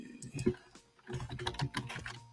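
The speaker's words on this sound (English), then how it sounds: "Click clack on my keyboard." Quick, irregular clicks of fingers typing on a computer keyboard, close and fairly soft, with a brief pause before a denser second burst of keystrokes.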